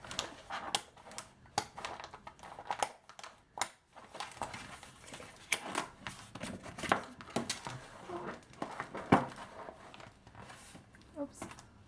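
Scissors cut through a plastic cover in a craft project, giving repeated close snips and crinkles in an uneven rhythm, with a person talking over part of it.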